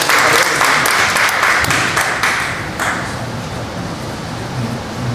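Steady, loud applause from attendees at a church association general assembly in Gimje, a dense wash of clapping filling the whole clip and easing slightly toward the end.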